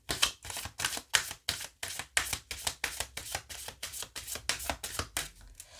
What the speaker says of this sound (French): Je vais vous tirer 2 cartes de l'oracle,